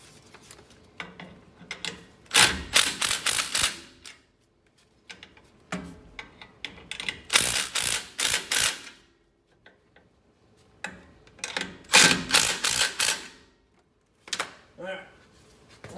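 Ratchet clicking in three quick bursts as airbag mount bolts on a Chevy K3500 are snugged down, crisp and close, with quiet gaps and low talk between.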